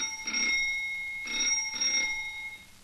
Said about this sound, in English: Will you ring the bell,